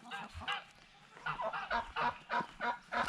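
Domestic geese honk repeatedly in a poultry yard at feeding time, a series of close, loud calls coming in uneven bursts with short gaps between them.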